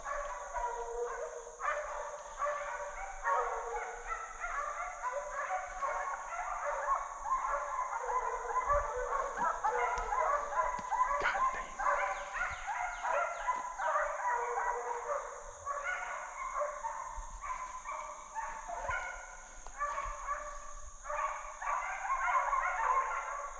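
A pack of hunting hounds chasing a deer bays and barks continuously at a distance, giving a dense, overlapping chorus that runs steadily through the whole stretch with no voices.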